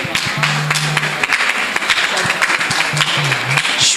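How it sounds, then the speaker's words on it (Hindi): Audience applause with scattered, uneven clapping close by at a yoga and music gathering, mixed with a few taps and thumps while a voice speaks briefly over it. "आप सभी थोड़ी सी तालियां बजा दीजिए।"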